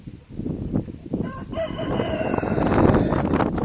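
Village chickens cluck loudly and a rooster crows close by, over a steady farmyard hum, with no one speaking.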